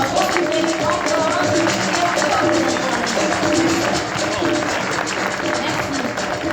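A crowd claps continuously at a solar decathlon award ceremony, a sustained wash of applause with some voices mixed in throughout.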